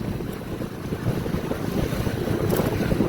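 Steady, loud rushing wind noise from riding a motorbike, continuous buffeting across the whole stretch with no voices.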